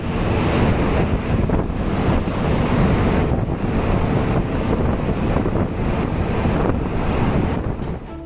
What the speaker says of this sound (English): The Nazaré wave is located off the coast of Portugal and is known for its massive size and power.